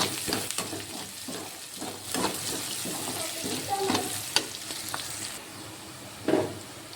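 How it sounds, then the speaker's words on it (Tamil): Onions fry and sizzle in a pan while being stirred for a Tamil tempered-onion rice dish, a steady close hiss broken by scraping stirs and occasional utensil knocks. "இன்னும் கொஞ்சம் நல்லா ஃப்ரை ஆகி வரட்டும்"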